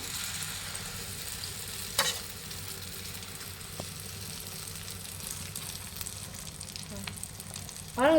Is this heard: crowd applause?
no